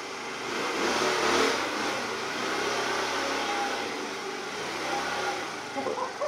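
Car driving off on a test drive, engine revving and pulling away at a moderate distance, a steady broadband drone that swells early and then holds, with no talk.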